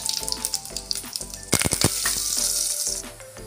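Mustard seeds, cumin and curry leaves hit hot oil for a Maharashtrian kattachi aamti, giving a close, loud sizzle with a burst of sharp crackling pops midway before settling into a steady hiss.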